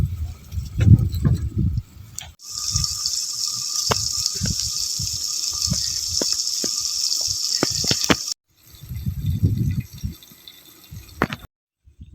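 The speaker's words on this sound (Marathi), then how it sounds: "पाणी टाका ना जरासा असं" Water streams and splashes into a cooking pot of village chicken curry for several seconds, with brief drips and clatter before and after, close by.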